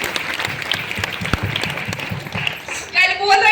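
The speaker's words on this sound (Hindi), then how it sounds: "जोरदार ताली मेरी माता जी के लिए।" Loud applause from a large audience at a motivational speech event, dense rapid clapping filling the space for several seconds before crowd voices and cheering rise at the end.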